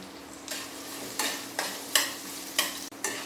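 Chopped onion, sliced garlic and ginger fry in a pan for a chicken stew, a steady close sizzle broken by several scraping stirs of the spatula, with no talking.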